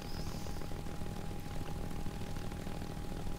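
A Bf 109 G-6 fighter's propeller engine drones steadily as the plane lands in the War Thunder combat game, a constant even hum with no voices.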